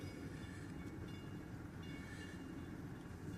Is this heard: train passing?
yes